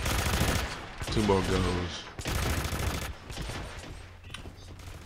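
Rapid automatic gunfire bursts at a shooting range in the game Hitman: Absolution, loud and dense, under a voice speaking briefly.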